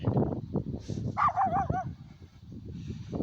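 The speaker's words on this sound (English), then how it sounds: "Listen to the dog. They can bark in sequence of sound of words." A dog at a house yard gives a few close whining, yipping barks that rise and fall in pitch, over a murmur of background noise.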